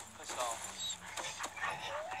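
A dog in the Call of Duty Ghosts video game yips and whimpers faintly amid game noise, short high cries repeating over a couple of seconds under a busy background.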